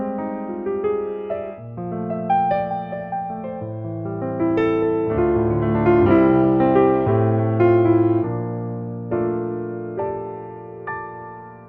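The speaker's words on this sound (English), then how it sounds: "The second piano, ultralight version, sounds like this." A sampled Kontakt piano, XPERIMENTA Due ultralight version, plays a flowing passage of chords and melody, sustained notes overlapping, with no voices.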